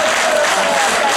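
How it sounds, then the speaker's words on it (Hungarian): Audience applause at an outdoor concert in Győrzámoly, following a guitar solo, a dense and steady wash of clapping held at one level throughout, with a sustained tone running beneath it. "engem tapsoltatok egy percig"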